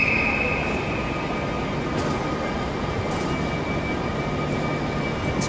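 A British Rail Class 43 high-speed train hums steadily nearby, a continuous low engine drone with a thin whining tone above it and faint intermittent clicks, no talk.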